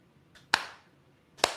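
Two separate hand claps, sharp and fairly close, sound about a second apart over a quiet background.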